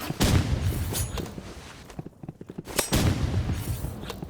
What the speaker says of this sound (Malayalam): ഇനി നമുക്ക് സ്നൈപ്പർ കൊണ്ട് കളിക്കാം